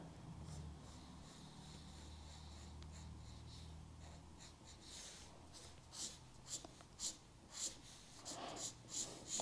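Felt-tip marker drawing lines on coat fabric, giving soft, dry scratchy strokes in several short bursts that grow more distinct toward the end, close and quiet.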